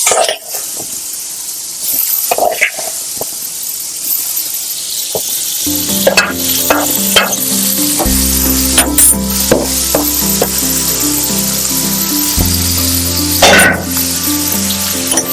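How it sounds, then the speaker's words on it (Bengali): Boiled green jackfruit frying in hot oil left over from frying potatoes: a loud, close sizzle with crackles and spatula clatter, and a music bed joins underneath partway through. "ইঁচড়টাকে আমি ভালো করে লাল করে ভেজে নেব"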